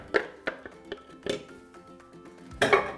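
Puréed vegetable soup being moved from a glass bowl into a wire strainer with a wooden spoon: several sharp clinks and knocks against metal and glass, irregularly spaced, close and fairly loud.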